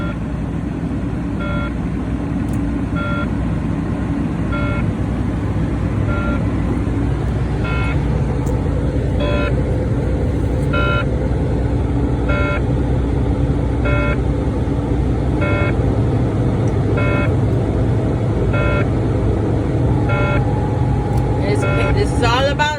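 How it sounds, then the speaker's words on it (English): Truck diesel engine rumbling and revving steadily at idle to build up air brake pressure, a continuous loud low drone with a repeating high beep pulsing alongside and a voice talking over it. "I'm gonna accelerate to make sure the air pressure is completely up"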